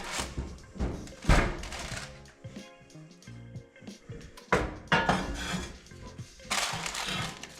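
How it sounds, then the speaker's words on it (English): A heavy lid is lifted off a hot pot of sourdough bread baking at 450 degrees, making several loud clanks and thunks of metal or cast iron with shuffling handling noises, close by, no talk. "so we're going to take the lid off now"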